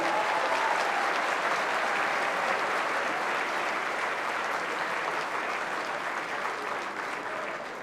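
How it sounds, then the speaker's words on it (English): A conference audience at a Republican Jewish Coalition winter meeting applauds law enforcement officials, producing a full, even roar of clapping that holds steady and eases slightly toward the end. "please a round of applause for all the law enforcement officials here"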